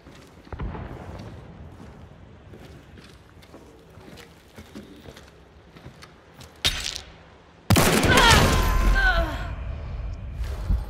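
Gunfire in Hunt: Showdown 1896, a few muffled shots across the first half, then a loud, dense burst of shooting close by near the end, with brief talk.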